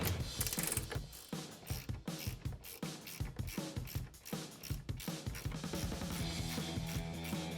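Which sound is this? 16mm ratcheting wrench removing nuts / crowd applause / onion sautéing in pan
16mm ratcheting wrench removing nuts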